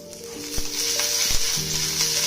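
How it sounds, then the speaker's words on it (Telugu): Green chillies fry in a drop of oil in an already hot pan, giving a steady close sizzling hiss with a few soft clinks of stirring and no voices. "ఇలా ఫ్రై చేసుకోవాలి"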